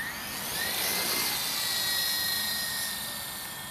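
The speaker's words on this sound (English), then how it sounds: "I'm going to play with the big copter." A remote-control single-blade helicopter flies steadily nearby, its whining rotor and motor holding a continuous high hum with a slight rise and fall in loudness.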